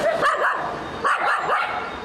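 Dog barking in a news report on dogs walked outdoors without muzzles, a couple of sharp bark bursts close by and fairly loud, recurring about a second apart.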